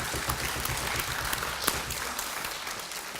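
An audience claps steadily through a short burst of applause after a children's composition recital at an arts center concert hall, an even, moderately close patter of many hands.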